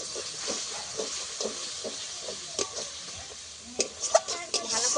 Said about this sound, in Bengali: আমি মশলাটাকে কষিয়ে নেব।